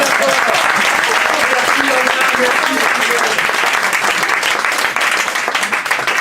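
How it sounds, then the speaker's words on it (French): Loud, dense applause fills a room at a local evening event in Renac, France, steady for about six seconds with some crowd voices mixed in before it begins to thin near the end. "on peut les applaudir"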